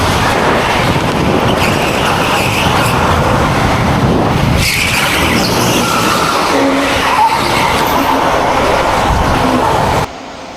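A race car in the Need for Speed video game roars continuously at full throttle, loud and dense, with tire skids and rushing noise throughout before the sound drops off abruptly near the end.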